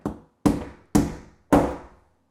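Four sharp hammer taps land at a slow, even pace while installing a sliding bypass closet door, each a crisp knock with a short ringing decay, close by.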